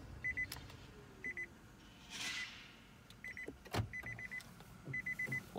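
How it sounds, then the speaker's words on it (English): Quiet interior of a 2019 Nissan Leaf with short bursts of rapid electronic warning beeps repeating every second or so, faint and steady, with no one speaking. "Press the button, make it stop beeping."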